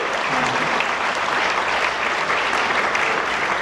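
Dense, steady applause from a gala fundraiser audience for the Canadian Centre for Men and Families, a continuous wash of many hands clapping, fairly loud and close, with no speech over it.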